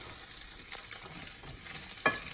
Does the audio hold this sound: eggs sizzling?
yes